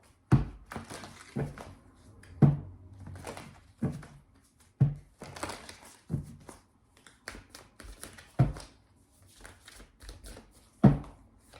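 Tarot cards being shuffled and handled by hand for an animal spirit card draw, soft riffling and papery rustles broken by several sharp thumps of the deck tapping down, close up, with no talking.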